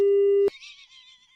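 A phone's steady, flat disconnect tone hums alone for about half a second, then cuts off abruptly, leaving only a faint wavering high sound behind.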